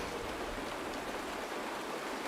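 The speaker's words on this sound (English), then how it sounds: "It's raining." Steady rainfall in the Honkai: Star Rail video game, a dense, even hiss of drops with no pauses or voices, holding at constant moderate loudness throughout.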